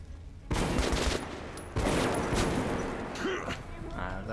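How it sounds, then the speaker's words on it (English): AK rifle gunfire in the shooter game Metro 2033 Redux: two loud, dense automatic bursts, the first starting sharply and the second cutting in after it, each echoing, with a voice briefly underneath. "I guess it's time to test out a new AK"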